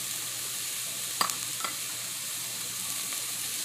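Peppers and tomatoes frying in a little oil in a pan, a faint steady hiss of sizzling with a couple of brief clicks or scrapes, no talking.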